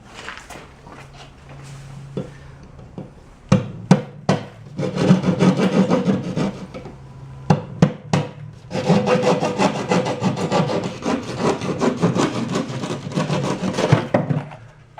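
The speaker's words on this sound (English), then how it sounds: "The easiest way to do it, get a keyhole saw." Keyhole saw cutting a hole through cement board, heard as bursts of rough, rhythmic rasping strokes separated by a few sharp taps and short pauses, close and fairly loud, with no talking.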